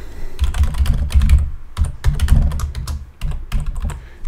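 Rapid bursts of typing on a computer keyboard while setting up a Laravel work environment, with clustered key clacks in uneven runs and brief pauses between them, close and fairly loud.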